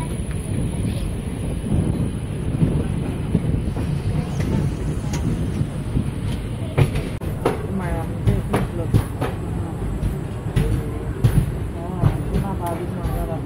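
Circar Express train rolling into Gudivada junction platform 1, a steady rumble of wheels with rhythmic clacks over rail joints and wind noise, while someone talks over it.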